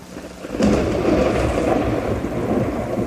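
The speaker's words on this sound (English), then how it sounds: "here's the clip of the raining part" A theme-park thunder and rain effect from an Epcot attraction: after a quiet start, a loud thunderclap breaks into a dense, steady roar of rain and rolling rumble that holds to the end, with no voices.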